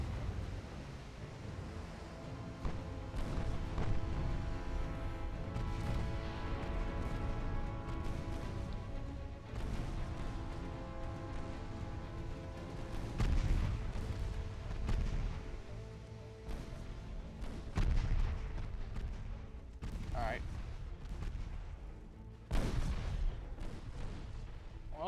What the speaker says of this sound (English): there goes another torpedo detonation